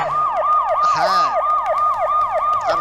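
An emergency siren in a video game wails in a steady, rapid repeating rise-and-fall cycle, loud and continuous throughout, with a brief whooshing game sound partway through.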